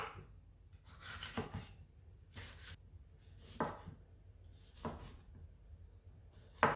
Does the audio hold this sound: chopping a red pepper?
yes